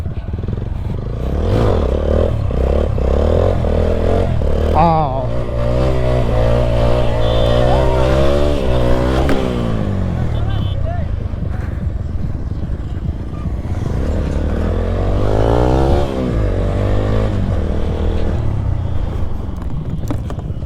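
Motorcycle revving hard for a wheelie on a busy road, loud and close, with the engine pitch climbing and falling in two long sweeps over a constant rumble of traffic.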